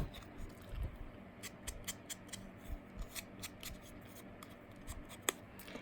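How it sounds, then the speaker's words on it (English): Scissors cutting apart paper for a traveler's notebook project: a quiet series of close, crisp snips and rustles, irregularly spaced over several seconds, with one sharper click near the end. "let's cut it apart and use the other side"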